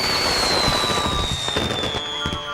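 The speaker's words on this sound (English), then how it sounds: "arrived at the Funfair as the fireworks began. The rockets soared," Fireworks rockets at a funfair whistle as they climb and then crackle and burst in quick, loud pops, one over another, with no voices.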